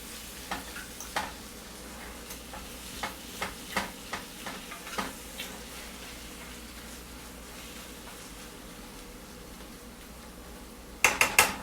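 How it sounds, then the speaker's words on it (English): A spoon stirs and chops a stuffed-shell filling mixture in a pan, a series of soft scraping taps over a quiet sizzle, ending with a few louder clatters against the pan. "You just want to keep stirring it, mixing it in."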